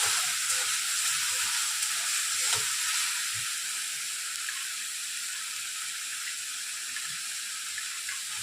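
A spice paste for doi rui fish fries in oil, giving a steady, even sizzle that continues for the whole stretch with faint stirring clinks.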